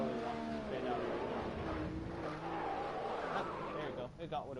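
A race car spinning out in a driving game, tires squealing and skidding with engine whine over several seconds, while a person talks throughout.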